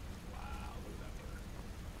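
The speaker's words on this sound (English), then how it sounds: "Ooh, it's raining." Steady rainfall in the Skyrim video game world, a constant broadband hiss of drops falling without pause, with a faint low rumble beneath and no talking.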